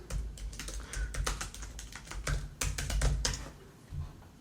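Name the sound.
typing on a computer keyboard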